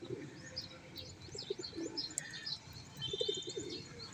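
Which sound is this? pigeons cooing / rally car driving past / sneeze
pigeons cooing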